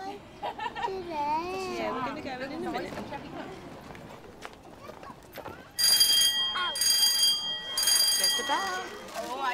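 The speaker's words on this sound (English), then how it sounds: "When the bell rings, school begins." An electric school bell rings at a school entrance in loud, sustained bursts with brief gaps, following calm narration and children's voices in an animated show.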